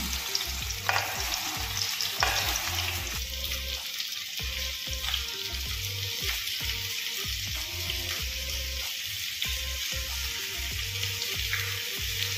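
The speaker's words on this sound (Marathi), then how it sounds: "आपलं तेल गरम झालेलं आहे। त्याच्यामध्ये कांदे टाकून घेऊ।" Onions fry in hot oil for a paneer masala curry, giving a constant loud sizzle close by, broken by the repeated scrape and clatter of a spoon stirring the pan.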